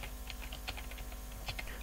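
A web address is typed on a computer keyboard, a quick run of light, soft key clicks at close range over a quiet background hum.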